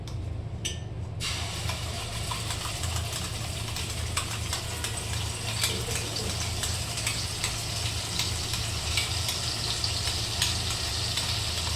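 Steady, even sizzling of masala frying in a pan throughout, with faint scraping of stirring and no voices.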